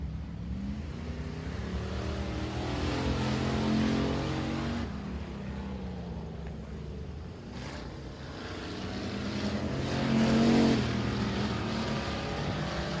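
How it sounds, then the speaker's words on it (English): A factory stock race car runs on a speedway track during time trials, a steady loud engine roar that swells and fades as it passes, with broad noisy rumble throughout and no talk. "The 34th car to hit the racetrack for the factory stocks as the second round rolls on."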